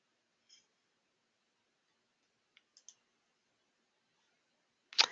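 A computer mouse clicks while an online form is submitted: a few faint, isolated clicks over a near-silent background, with the last click noticeably sharper and louder.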